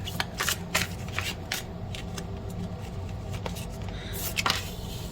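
Tarot cards being shuffled by hand, a close, continuous run of quick riffling flicks and papery slaps with short pauses, no voices.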